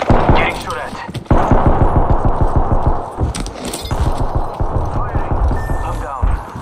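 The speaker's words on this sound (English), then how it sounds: "Getting shot at." Rapid gunfire in the Apex Legends battle royale game, bursts of automatic shots rattling close and loud for most of the stretch with a short pause, under game voice lines and effects.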